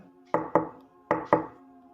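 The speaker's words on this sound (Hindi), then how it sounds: "जैसे ही दरवाज़ा लगाया, बाहर से किसी ने नॉक किया।" Two pairs of sharp knocks on a door in a quiet room at night, each pair quick and evenly spaced, close and fairly loud with a short pause between the pairs.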